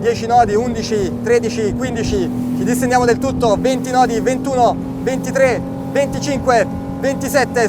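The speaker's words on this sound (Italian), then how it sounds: "Sentite il rombo, siamo già fuori dall'acqua" A Ranieri 275 SL motorboat with a single 300 hp engine roars steadily at speed as it climbs onto the plane, the motor noise continuous beneath a voice calling out rising speeds.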